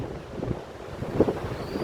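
Monsoon sea at Gokarna, with low rumbling surf and gusting wind buffeting close, a continuous rough wash that swells briefly midway.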